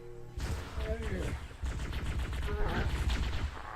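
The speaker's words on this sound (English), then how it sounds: "bombard them with the plasma" Plasma weapon fire in Halo: Combat Evolved, a rapid, loud stream of crackling shots with impact noise and battle din, continuing almost without pause as a voice speaks over the gunfire.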